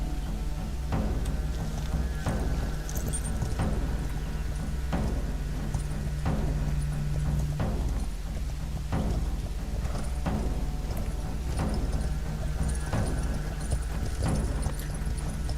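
A horse gallops in the video game Ertugrul of Ulukayin with steady, rapid hoofbeats, an even rhythmic clip-clop that runs the whole time over low ambient game sound, with no talking.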